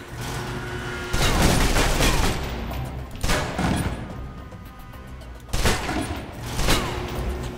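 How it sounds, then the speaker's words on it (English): Several bursts of submachine gun fire in the video game Alpha Protocol, loud and close, with dense gunfire and booming impacts in roughly three clusters. "If you're trapped in close quarters with multiple opponents, the SMGs can help clear the room quickly."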